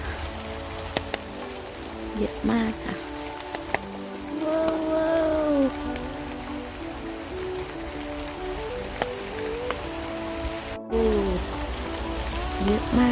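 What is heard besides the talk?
heavy rain falling on a heath field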